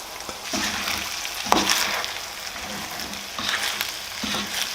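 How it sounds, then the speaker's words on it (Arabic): Sliced mushrooms sizzle on top of meat in a hot pan for an Aleppo-style chicken and rice dish, a steady close frying hiss with occasional stirring scrapes and clicks, no voices. "هلا رح ننزل الفطر فوق اللحمة ونخليه يستوي معه."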